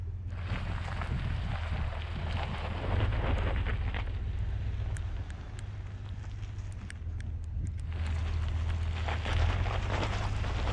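A 2020 Ford F-250 with the 7.3 gas engine idles up an off-road hill in low-range gearing, giving a deep, steady engine drone mixed with gusty wind noise on the microphone.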